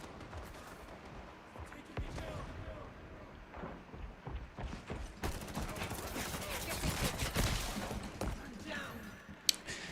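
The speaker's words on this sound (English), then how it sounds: "Throwing grenade." Video game combat with a grenade explosion and bursts of gunfire, distant-sounding shots and rumbling blasts crackling at low volume and building toward the middle, with a sharp crack near the end.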